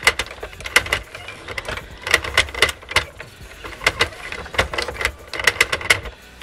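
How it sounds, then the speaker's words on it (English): A Sentro knitting machine being cranked slowly, giving close, loud clusters of sharp plastic clicks and ticks in repeating bursts with short pauses between, with no talking. "If your machine sounds like this, it's because you're going slow."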